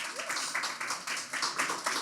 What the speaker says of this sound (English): Can we have a round of applause, everyone?